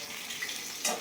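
Fish frying in hot oil, a dense steady sizzle with a brief louder spatter near the end, close and fairly quiet.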